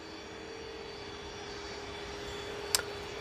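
A Cessna Citation CJ12 business jet departing Manchester Airport for Dusseldorf gives a steady, continuous engine roar at a moderate distance, with a short sharp click near the end.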